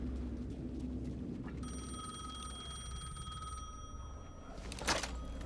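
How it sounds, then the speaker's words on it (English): A payphone rings in the game Alan Wake 2, a steady bell-like trill with bright sustained tones that hold for a couple of seconds over a low ambient drone, moderately close and alone. "You gotta go answer me a payphone."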